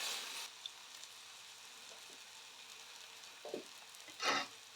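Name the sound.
tomato and garlic paste frying in a pan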